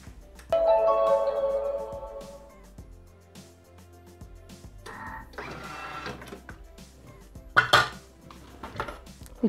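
Chicken being minced in a Bimby Thermomix food processor bowl at speed 4 for 30 seconds: a sustained whirring and clattering churn, loud at first then fading, with clinking knocks toward the end.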